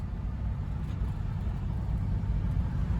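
Interior of a classic Mercury car cruising at about 55 mph, a steady low engine and road rumble, continuous and even with no talk.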